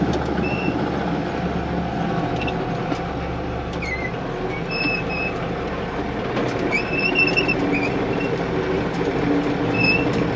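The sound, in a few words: old tractor engine running while baling hay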